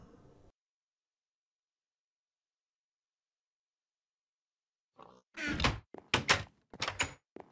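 A wooden door in Minecraft opens and closes in a few sharp, close thunks and clacks after a long silence.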